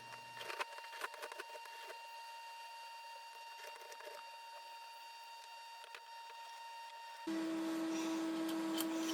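A sharpener grinds metal off both sides of a survival tomahawk's blade. Quiet, rough mechanical scraping runs with scattered clicks, then turns into a louder, steady rasp for the last couple of seconds.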